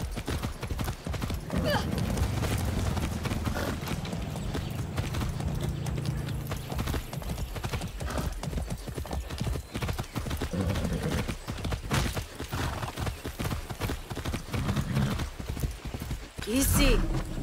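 Galloping horse hooves in the video game Far Cry 6 pound in a fast continuous rhythm, with voices talking over them and a few sharp bangs near the end.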